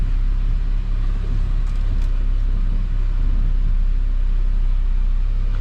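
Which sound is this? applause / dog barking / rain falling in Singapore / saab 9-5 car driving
saab 9-5 car driving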